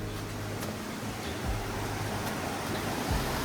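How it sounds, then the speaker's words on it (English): A waterfall at Kiriwong Village in Thailand's mountains gives off a steady, broad rushing roar, moderately loud and continuous, with faint low hum and scattered small knocks beneath. "Towards the waterfall. Okay, I think he's led us here. The water sounds rushing."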